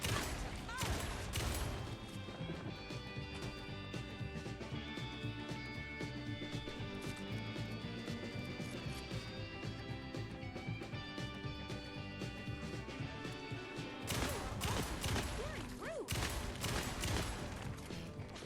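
Repeated shotgun blasts in the video game Alan Wake II, heavy bursts clustered at the start and again near the end, with a steady layer of game music and ambience carrying through the middle.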